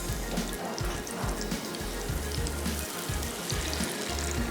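About four kebabs fry in a pan, giving a steady, even sizzle and crackle that runs through the whole stretch with no voices over it.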